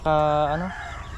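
A native chicken gives one loud, close, drawn-out call that fades into quiet farmyard background noise.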